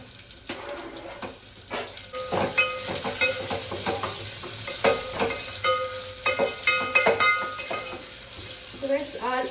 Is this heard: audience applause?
no